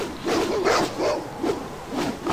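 A dog in a fight in Baldur's Gate gives a run of four or five rough, mid-pitched barks at an uneven pace, close and fairly loud, with no voices over them.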